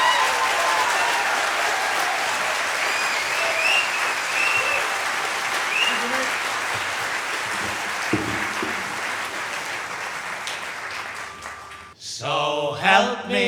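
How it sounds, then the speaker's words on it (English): A folk tribute crowd applauds, a long, even ovation that carries on for about twelve seconds before fading as voices and music begin to come in. "So another round of applause,"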